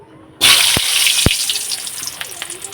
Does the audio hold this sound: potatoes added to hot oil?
yes